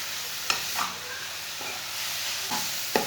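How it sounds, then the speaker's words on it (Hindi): Carrots stir-fried in a pan with a spoon: a low steady sizzle with several distinct scraping clicks of the spoon against the pan, close by and fairly quiet, with no voices. "5 मिनट तक मैंने चम्मच चलाते हुए गाजरों को भून लिया।"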